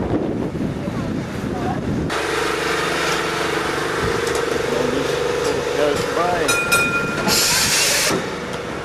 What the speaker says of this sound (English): Going for that tram now.